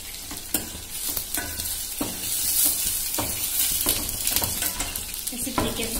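Soya chunks fry in a pan with a continuous close sizzle, broken by repeated scraping and clinking as they are stirred and turned, with several sharp taps against the metal.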